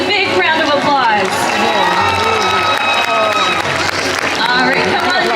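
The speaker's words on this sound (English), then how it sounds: "Everybody, let's give them a big round of applause." A SeaWorld San Diego orca show crowd applauds and cheers in a dense, loud wash of clapping and shouts, with an announcer's amplified voice talking over it.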